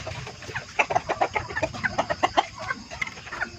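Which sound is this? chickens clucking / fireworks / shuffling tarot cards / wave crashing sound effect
chickens clucking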